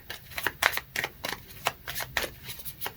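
A deck of tarot cards being handled and cards drawn: rapid papery riffles and flicks in quick irregular bursts, close and fairly quiet, with no talking.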